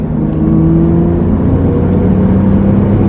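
A car engine being run in during break-in revs steadily, a loud close continuous drone with a sustained engine hum and no voices.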